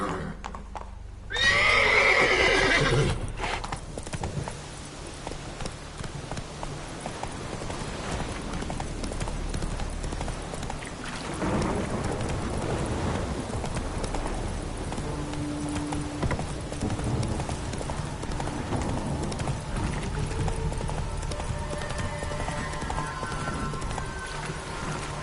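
Roach the horse gallops in a video game, steady clip-clop hoofbeats running throughout with a loud whinny near the start, the pounding rhythm continuing over a low rumbling background.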